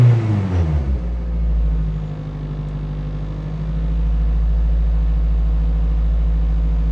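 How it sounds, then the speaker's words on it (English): A Toyota Celica engine, previously troubled by a lean-running fault, revs briefly and then settles into a steady, loud, low rumbling idle up close, with no talking. "I'm gonna rev the engine real quick for you guys"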